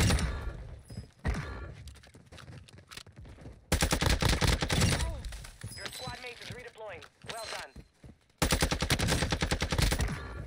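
Rapid automatic gunfire in a first-person shooter played on keyboard and mouse, sustained loud bursts in several long volleys, with a voice talking between and over them.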